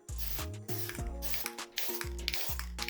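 A steady hiss of aerosol dull coat spray over painted diorama rocks runs close and fairly quiet, with faint whirring tones shifting underneath.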